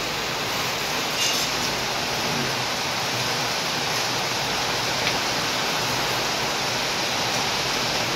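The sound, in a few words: heavy rain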